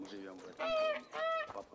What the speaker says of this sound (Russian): Гуси, гуси, га-га-га.